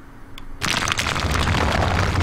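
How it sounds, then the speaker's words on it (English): A grenade explosion from an enemy in The Punisher video game erupts after a brief quiet moment, a loud sustained boom that rumbles and crackles to the end. "He shoots grenades, that sucks."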